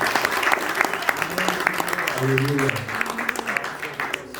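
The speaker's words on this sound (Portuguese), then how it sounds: "Será que você pode aplaudir o Senhor mais alto que eu posso?" Congregation clapping loudly in a church service, a dense, sustained round of applause with a voice speaking briefly in the middle.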